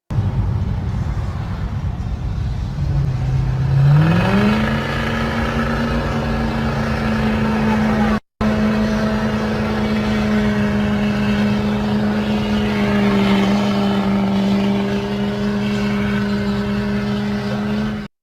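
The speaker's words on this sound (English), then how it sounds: "the truck accelerated and you see black smoke spraying out from underneath" A pickup truck engine revs hard and accelerates, the note rising sharply then holding a loud, sustained roar with a brief cut partway through, close and dominant with no talking.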